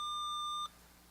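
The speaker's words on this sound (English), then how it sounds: "Go ahead, Shaq, your buzzer went first." A quiz-show buzzer sounds a steady electronic beep of about two-thirds of a second, clear and fairly close, then cuts off to quiet room noise.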